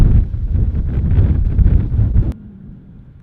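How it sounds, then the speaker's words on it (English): Heavy wind buffets the microphone on a disc golf course with a loud low rumble for about two seconds, then drops suddenly to a quieter, steady gusting. "when it's windy like this"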